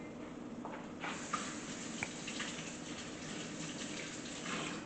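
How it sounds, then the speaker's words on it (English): Running tap water pours steadily while hands are rinsed during cooking prep, a soft continuous broadband wash at moderate level with a few small splashes and clinks, no talking. "Wash my hand again."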